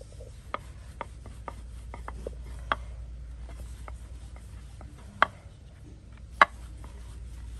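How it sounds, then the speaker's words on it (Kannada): Rolling pin working dough for karjikai, the crisp Diwali pastry, into rounds on a board, heard as faint rubbing with sparse light knocks and clicks over a low, steady hum. "ಅದೇ ರೀತಿಯಾಗಿ ಹೀಗೆ ರೌಂಡ್ ಮಾಡಿ ಲಟ್ಟಿಸಿದ್ರೆ ಆಯ್ತು"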